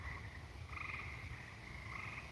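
Frogs calling from across the street at night, a continuous overlapping trill in pulses that seem to answer each other, steady and moderately distant, with no talking.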